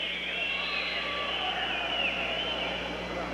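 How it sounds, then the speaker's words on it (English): A large arena crowd at a 1986 Goodwill Games volleyball match keeps up a continuous, loud wash of shrill whistling and noise, sustained and fairly even throughout without pause. "Some of these people are going to have mouth cramps. They've been whistling so much."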